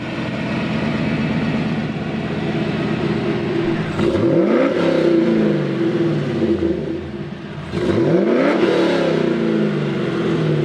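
An LS V8-swapped BMW E30 idles with a loping burble, then revs hard twice, each rev climbing to a roar before dropping back, loud and close.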